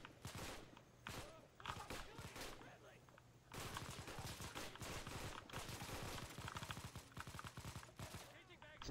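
Rapid machine gun bursts from a World War I shooter game, shooting through wood, fill the clip in dense crackling volleys, sometimes sustained, sometimes broken, with scattered single shots and a voice briefly calling out.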